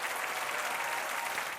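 Audience applause fills a concert hall after a choir performance of Korean and hymn songs, a dense steady wash of clapping with no voices on top, sustained loudly throughout.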